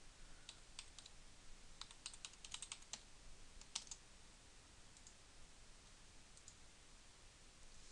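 Someone types a username on a computer keyboard: quiet, irregular clicks of keystrokes in short bursts, clustered in the first four seconds and sparser after, over faint background hiss with no voices.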